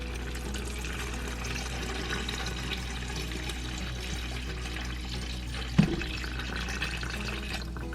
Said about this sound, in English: 4 cups of water.